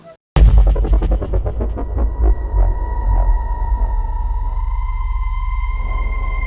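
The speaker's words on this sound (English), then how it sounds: "just add some drums, hard hitting drums at the beginning of the attack, let it wob down" A heavy throbbing hit slams in after a brief silence, its low pulses wobbling down beneath a sustained droning hum that lingers ominously.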